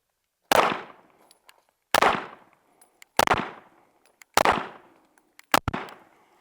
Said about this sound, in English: let's do both guns have the same ammo. Let's do some slow fire